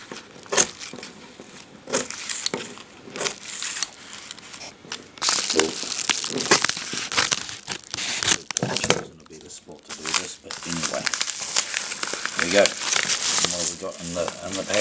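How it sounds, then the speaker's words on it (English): Scissors snip and crinkle through a mailed package's plastic and paper wrapping up close, irregular cuts and rustles, with a voice talking over it. "And we have one-handed scissoring."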